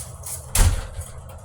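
A house door that will not lock is tried, giving one solid thump with a brief rattle midway through, fairly close and loud, with quieter handling noise before and after.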